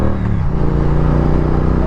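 A Hyundai Elantra's exhaust note drones steadily and loudly while the car drives, a continuous low engine rumble that holds close and even throughout.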